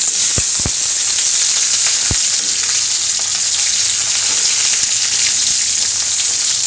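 Bottle gourd peel sizzles loudly in hot oil with softened green chillies, a constant close crackling hiss. A few sharp spoon knocks against the pan come early as it is stirred, and no one speaks.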